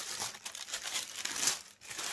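EA7 tissue paper crinkles and rustles inside a shoe box, a continuous close crackling texture with small bursts and a brief pause near the end.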